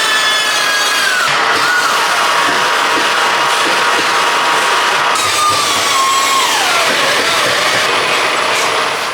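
A loud, continuous metal grinding from a power tool countersinking holes in a metal bracket, its pitch sliding downward twice as the bit bites into the workpiece.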